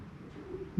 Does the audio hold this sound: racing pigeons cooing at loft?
yes